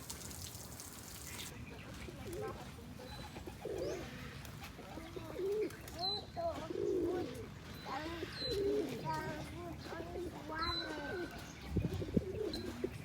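Pigeons coo in soft, repeated low calls at close range, with occasional chirps and faint rustling and voices in the background.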